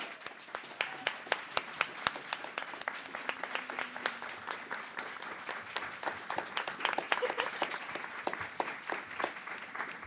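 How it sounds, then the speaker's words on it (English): Audience applause at a poetry fellows reading, many hands clapping in a dense steady patter at moderate distance, fairly faint and sustained for the whole stretch. "have you all give a massive round of applause for these writers"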